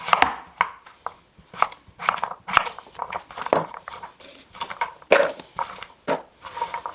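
Knife chopping butternut squash on a cutting board, a series of close, firm thunks and scrapes in an uneven rhythm, loud and clear with no talking.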